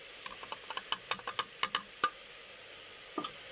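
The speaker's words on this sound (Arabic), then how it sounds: "انا يعني البصاره كنشحرها باش كتاخذ كاع دوك النكهات ديال البصله" Bissara fava bean purée being sautéed with onion and garlic in a pan, faint scraping stir strokes and soft clicks in an irregular series over a quiet background, then a brief pause and a couple more strokes.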